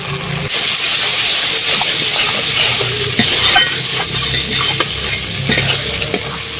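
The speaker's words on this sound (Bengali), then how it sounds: "মশলা খুব সুন্দরভাবে কষানো হয়ে গেছে" Spices with tomato and cauliflower sizzle loudly in a pan while being stirred, a close, dense frying hiss with repeated scraping strokes of the spoon throughout and no voices.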